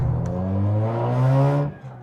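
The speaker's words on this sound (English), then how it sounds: "It's pretty cool at wide open throttle." Straight-piped Mazda RX8 rotary exhaust at wide open throttle, a loud continuous blaring drone whose pitch climbs steadily for about a second and a half, then cuts off abruptly as the throttle closes.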